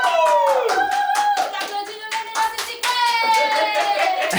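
Studio team of a French comedy talk show applauding themselves, dense close hand-clapping throughout with loud tonal music and some voices over it.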